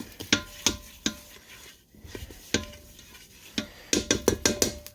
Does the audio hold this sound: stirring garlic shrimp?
yes